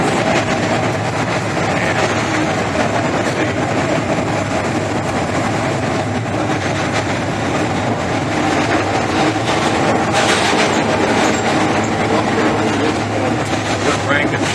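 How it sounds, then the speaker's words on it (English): A Chicago L train running through an underground subway section, with a loud, steady rumble and roar of wheels on track filling the car throughout, with no clear individual clacks. "Some of the L trains go down into subway."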